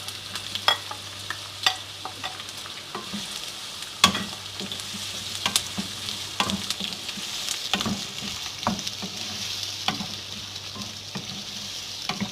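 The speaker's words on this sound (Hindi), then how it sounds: "और ऑयल के गर्म होने पे हम अपना प्याज शामिल कर देंगे जो मैंने काट के स्लाइस में रख लिया" Sliced onions frying in hot oil give a steady close sizzle, with intermittent scraping clicks of a spoon stirring the pan and no talk.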